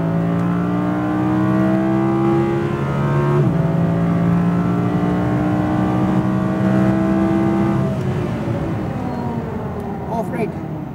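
An Audi R8 V10 RWD accelerates hard around the Speed Vegas race track, its engine loud and close, pitch climbing steadily through the gears with shifts breaking the rise twice.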